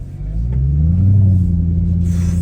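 A Mercedes-Benz ML63 AMG engine revs and accelerates, a loud close deep rumble that rises in pitch as it pulls, then settles into a steady growl near the end.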